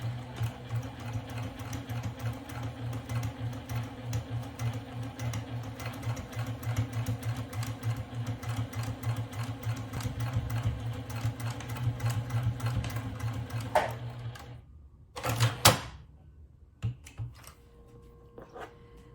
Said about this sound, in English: Here at the sewing machine, we are going to top stitch, back stitch